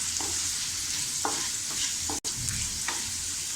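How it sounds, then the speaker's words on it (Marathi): Whole spices and turmeric sauté in a hot pan for a tempering, a soft continuous sizzle with a few distinct stirring scrapes of a spoon, close and alone without talk. "हळदसुद्धा आपण व्यवस्थित अशी परतून घेऊया"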